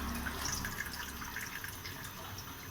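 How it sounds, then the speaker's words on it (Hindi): Water heating in a cooking pot for rice, with a dense bubbling, hissing churn that stays steady and close throughout, with no voices. "देखिए पानी हमारा पक रहा है"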